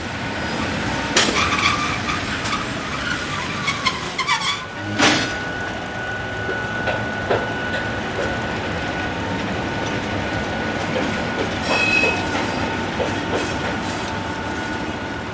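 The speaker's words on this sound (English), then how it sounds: "GSEF V43 electric locomotive number 335 is seen running light engine through the yard" GSEF V43 electric locomotive number 335 runs light engine through a rail yard, giving a steady rolling rumble with wheel clicks and occasional metallic squeals and clanks.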